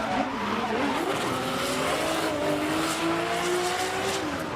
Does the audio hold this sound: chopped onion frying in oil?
no